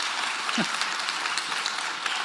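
Audience at a football club's town hall clapping, a steady patter of many hands at moderate volume with a brief low thump partway through.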